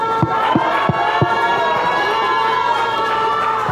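A large wrestling crowd in Toluca cheers and shouts loudly in a big hall, with rhythmic claps and stomps punctuating the steady roar of voices.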